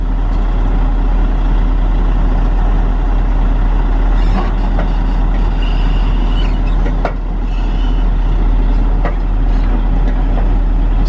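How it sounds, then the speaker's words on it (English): A log truck's diesel engine rumbles steadily as the rig pulls forward to lengthen its log trailer, with a few short clanks and hisses over the drone. "he's gonna jump in the truck and he's gonna pull forward"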